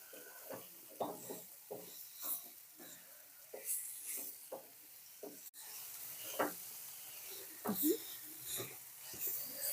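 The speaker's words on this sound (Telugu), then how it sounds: "ఈ ఉల్లిపాయ కూడా బాగా మగ్గిన దాకా కూడా వేయించుకోవాలి." Onions sizzle in a pan while being fried for a Telugu prawn curry, a steady soft crackle broken by repeated stirring scrapes and small bursts, close but quiet.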